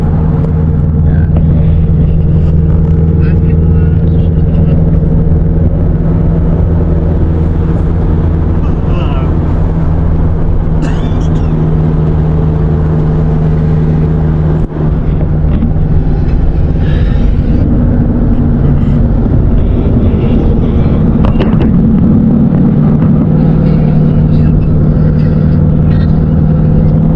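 A car travelling on the road gives a loud, steady low engine and tyre rumble for nearly half a minute, with people talking intermittently inside.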